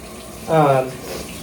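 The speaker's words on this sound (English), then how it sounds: "So I'm going to put more water in here." Water is poured into a soil mix for soil blocking, a short burst of gurgling, splashing pour rising briefly over quiet background.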